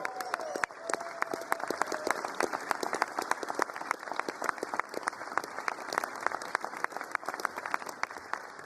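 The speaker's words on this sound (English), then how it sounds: "You got to hold your applause." Audience applause at a public event, dense continuous clapping from a crowd at a steady moderate level, many sharp individual claps throughout.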